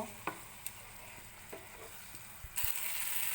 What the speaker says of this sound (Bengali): টক দই দিয়ে এটাকে আমি খুব ভালোভাবে নেড়ে নিব।